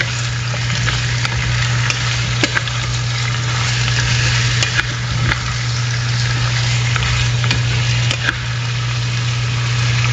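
Chicken and four potatoes sizzle loudly and steadily in a pan for a Maranao-style chicken curry, with occasional stirring scrapes over the continuous frying hiss and a low steady hum beneath.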